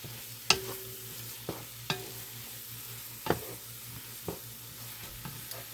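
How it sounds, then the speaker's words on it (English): Gumbo being stirred in a pot with parsley just added: a few sharp scraping clacks of a spoon against the pot, spaced irregularly over a soft steady sizzle, close and moderately quiet with no talking. "And give that a stir."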